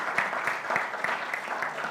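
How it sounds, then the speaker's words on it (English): An audience at a monetary policy address applauds the Governor with a brief, steady burst of many hands clapping, close and fairly loud. "may I request that we give the Governor another round of applause"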